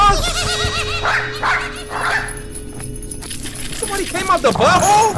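A dog barking and yelping in an animated horror short, loud close barks mixed with whimpering yips, while an excited voice talks over it throughout.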